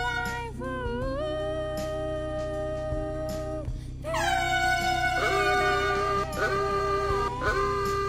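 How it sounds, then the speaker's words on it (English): In the Roblox Brookhaven game, a loud vehicle air horn blares in long, sustained blasts whose pitch bends and slides, with a brief break before a louder second blast. "Okay, stop that horn."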